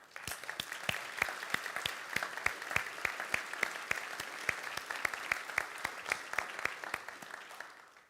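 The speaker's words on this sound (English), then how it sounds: "I think we deserve a round of applause for that." Audience members at a university address clap in a steady, evenly spaced rhythm of crisp individual claps, fairly faint and continuing for around eight seconds without speech.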